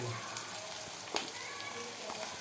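Finely chopped onions sizzling in a frying pan for a gravy, a continuous close hiss and crackle with a few sharper pops along the way.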